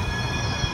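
A train at Amsterdam Central Station rumbles steadily close by, with a faint wheel squeal and a dense hum and no voices.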